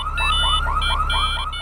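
Car alarm in the video game Grand Theft Auto 3, a loud repeating electronic whoop cycling in quick rhythmic sweeps over a low engine hum.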